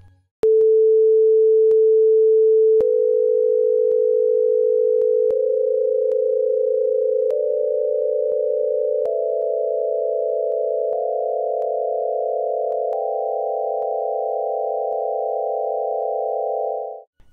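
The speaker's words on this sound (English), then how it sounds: "play these ascending tones, they have no harmonic perfection at all" A pure sine tone steps upward through a musical scale, each new pitch added on top of the previous ones so the sound thickens into a steady, buzzing chord, loud and alone before cutting off.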